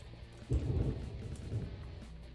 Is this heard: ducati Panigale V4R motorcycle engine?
no